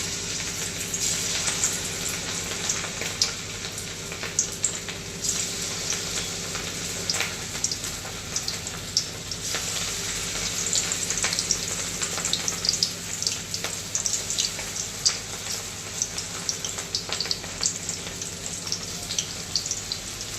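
Leftover rice pakoras deep frying in hot oil give off a steady, dense sizzle with crackling bursts that continue on their own throughout, close to the pan.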